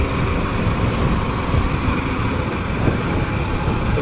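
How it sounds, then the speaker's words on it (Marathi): Steady, dense road traffic fills a city street with signals, a continuous broad rumble of passing vehicles at a fairly loud, even level throughout. "आता इथं ट्रॅफिक असते"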